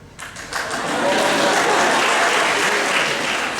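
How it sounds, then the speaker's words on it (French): An audience at a hypnosis stage show breaks into sustained applause, starting in a few scattered claps and swelling within a second into a dense, steady wall of clapping that holds loud to the end. "ils applaudissent pour rien"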